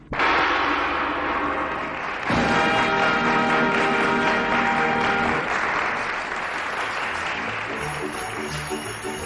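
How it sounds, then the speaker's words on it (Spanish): A theater audience applauds in a Spanish radio drama. The clapping is loud and sustained throughout, swells at the start, and slowly thins toward the end. "En el escenario, los Corona agradecían el aplauso"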